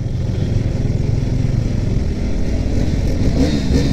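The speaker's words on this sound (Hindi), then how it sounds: "ये लोग ना अपने बाइक को फुल पावर के साथ रेव कर रहा है।" Motorcycles revving at full power amid dense evening road traffic, a loud, continuous engine roar and rumble of passing vehicles with no pauses and no talking.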